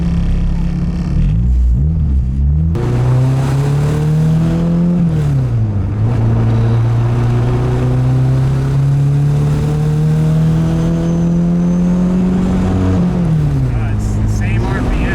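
A turbocharged K24 engine in a Nissan Cefiro revs hard and loud, the pitch rising and dropping as it repeatedly hits a cut-out at the same speed and falls back, with voices underneath.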